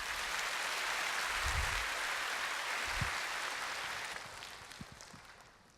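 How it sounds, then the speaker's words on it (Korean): A church congregation applauds to welcome an elder forward, a soft, steady wash of many hands clapping from a distance that continues evenly and then gradually fades away. "우리 다 같이 박수로 맞으시겠습니다"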